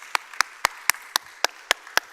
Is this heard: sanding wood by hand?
no